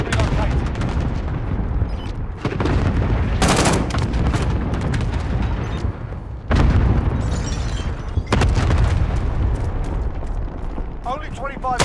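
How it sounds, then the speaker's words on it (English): Cluster strike explosions and gunfire in Call of Duty: Modern Warfare, a dense, loud barrage of booms and rapid shots rolling continuously, with voices talking over the battle. "Allied cluster strike inbound."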